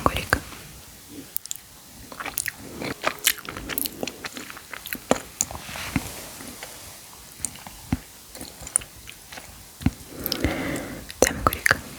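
Gummy candy (marmalade) is bitten and chewed up close in an ASMR mukbang, giving soft, sticky squishes and crisp bites in an irregular rhythm, with faint whispering between mouthfuls.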